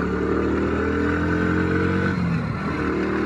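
Motorcycle riding up onto a flyover on a smooth road, with a steady, loud, close engine drone and wind roar throughout and a slight dip in pitch near the end, with no speech.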